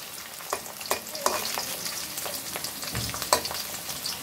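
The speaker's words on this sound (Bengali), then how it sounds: "আলুগুলো ভেজে নেই" Potatoes fry in hot oil with a steady soft sizzle, broken by several sharp scraping clinks as they are stirred and turned in the pan, close and fairly quiet with no talk.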